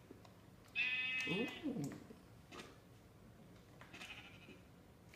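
A Minecraft sheep gives one clear bleat, close and loud against a quiet background, followed by faint game sounds, and a person makes a brief exclamation.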